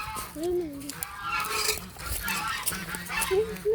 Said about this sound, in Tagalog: Ang lalaking ganso.